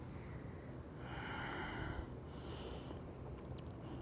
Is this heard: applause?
no